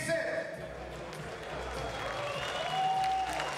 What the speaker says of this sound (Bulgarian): Напълно заслужени овации за Даниел Сенов.